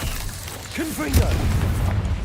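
A deep explosive boom from the Confringo blasting spell in the video game Hogwarts Legacy, a short low thud that rumbles briefly under a speaking voice.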